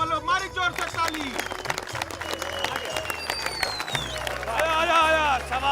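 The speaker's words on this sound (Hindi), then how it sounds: "तो बोलो मारी जोर से ताली" A crowd at a traditional wrestling semifinal applauds continuously, the clapping mixed with background music and a loud announcer-style voice speaking over it.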